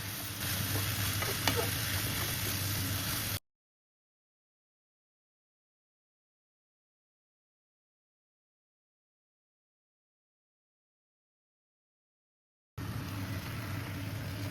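Carrots go into a pot of minestrone soup with steady sizzling and stirring, loud and close. The sound breaks off into total silence partway through, then the sizzle returns.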